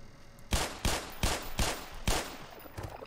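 Gunfire in the Black Mesa video game, five sharp, evenly spaced shots fired roughly once every third of a second, loud and close with a short decay after each, then a fainter tail.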